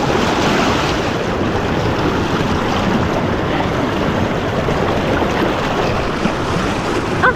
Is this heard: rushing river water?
yes